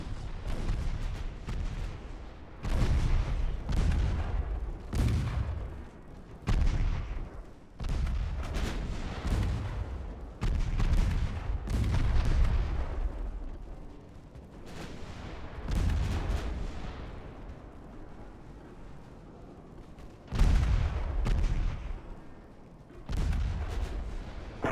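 Small 2-inch naval guns fire in a naval warfare game set in an 1897 Ottoman campaign: a long series of loud, sharp booming shots, some singly and some in quick clusters, each with a rumbling decay and no talk.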